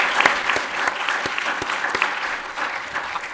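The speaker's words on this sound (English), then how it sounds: "So please clap now." Audience applause at the end of a conference panel on large-scale governance and small-scale farming, a dense burst of many hands clapping close by for a few seconds without pause.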